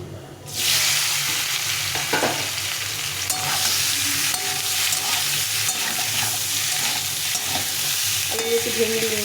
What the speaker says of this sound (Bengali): এখন এই তেলে আলুগুলো একটু ভেজে নেবো